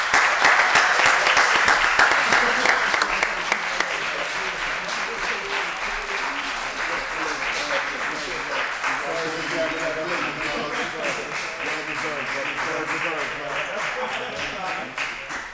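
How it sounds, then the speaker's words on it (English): Applause from a ceremony crowd honoring a newly promoted fire lieutenant at a Pittsburgh fire bureau promotion event, loud and dense clapping throughout, strongest at the start then steady, with voices mixed in underneath. "Let's clap for him."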